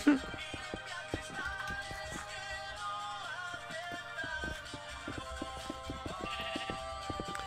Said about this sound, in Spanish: vale, ya traigo dos ovejas más, ¿eh?